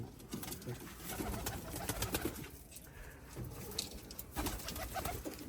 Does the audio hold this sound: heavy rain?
no